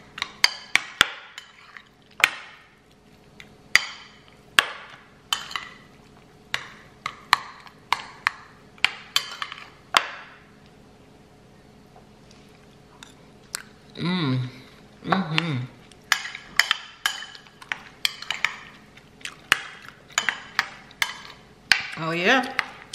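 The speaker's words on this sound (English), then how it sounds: "So I just kind of just mix it all together." A spoon scrapes and clinks against a dish as breakfast is stirred together, a long run of sharp irregular taps and scrapes, moderately close, with brief gaps and some quiet talking between them.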